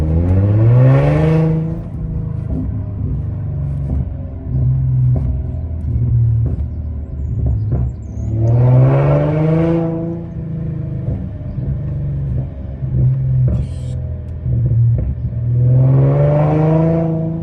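Car engine revving repeatedly to a little under 3,000 rpm with no tune, idling with a steady rumble in between, and the exhaust giving faint popping and crackling as the revs drop.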